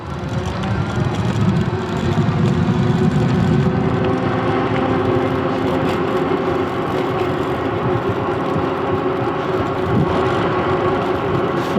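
NAKTO Santa Monica e-bike riding on throttle at assist level 4, a loud steady drone of motor and wind with rolling road noise, continuous and unbroken.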